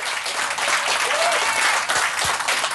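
A studio audience applauds during a live radio show, loud, dense and continuous clapping that fills the whole stretch with no talk over it.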